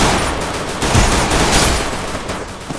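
Gunfire in the Free Fire Clash Squad mobile game: loud, continuous rapid shots in dense overlapping bursts throughout, with no talk.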